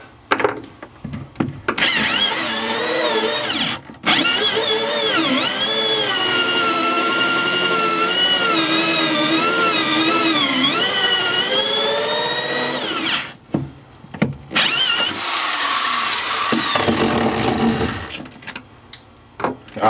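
A hole saw bores through a Sea Ray boat hull, a loud, close whine with shifting pitch that runs for about ten seconds, stops, then resumes in shorter bursts.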